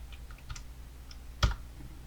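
A few light computer keyboard keystrokes while typing a value, followed by one louder, sharper press of the Enter key, close and isolated with no talking.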